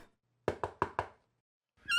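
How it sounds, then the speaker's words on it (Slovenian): Four quick, evenly spaced knocks on a door sound close and crisp in an otherwise quiet room, followed by a brief voice starting at the end. "ko so potrkali"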